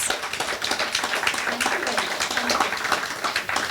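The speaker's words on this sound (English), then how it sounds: "Can we have a round of applause," Audience applause welcoming an author to the stage at a literary event, a brisk, steady patter of many hands clapping, close and fairly loud, with a faint murmur of voices beneath.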